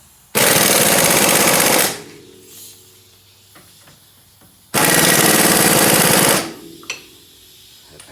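Impact wrench tightening the 17mm brake caliper bracket bolts on a Honda Civic, two loud close bursts of rapid hammering rattle separated by quiet workshop clatter.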